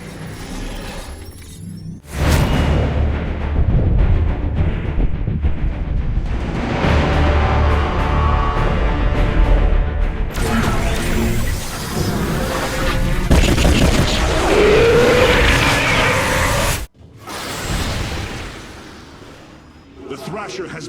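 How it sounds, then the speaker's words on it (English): An orbital strike from the Spear of Adun in StarCraft 2, heavy booming blasts and crashing, shattering debris layered over battle noise and music, loud and sustained, with a voice speaking over it. "Karax, are any of the Spear of Idun's weapon systems ready for use? Orbital strike is online."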